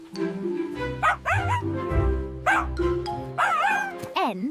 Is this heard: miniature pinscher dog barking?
yes